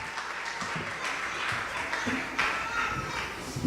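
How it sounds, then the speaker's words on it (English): Applause from a worship-service audience welcoming a woman invited up to give a testimony, a dense steady wash of clapping with some voices mixed underneath. "give her a round of applause"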